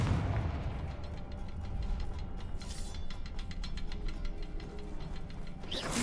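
A fiery Confringo spell from a video game in a cavern, firing as a run of rapid crackling bursts and dull booms that pulse through a rumbling background.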